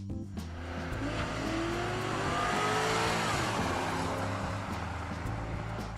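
A 2005 Pontiac Bonneville GXP with its 275-horsepower Northstar V8 accelerating hard, the engine note climbing through a rising rev with tire squeal, building to a loud peak mid-way before easing, no voices.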